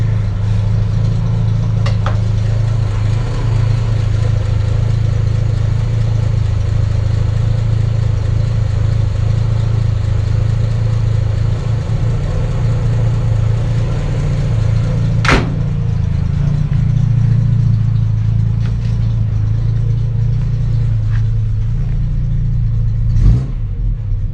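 A 1963 Jaguar Mk II engine idles while warming up, a steady low throbbing that runs close and even for the whole stretch, with a couple of brief clicks or knocks along the way.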